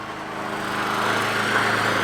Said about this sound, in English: My dad's just doing a little bit of mowing in preparation.